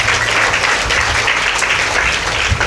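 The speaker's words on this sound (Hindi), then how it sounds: "तालियों से स्वागत करिए ना" Sustained applause from a seated audience at a Hindu devotional katha discourse, a steady dense patter of many hands clapping together, fairly loud and continuous throughout with no voices.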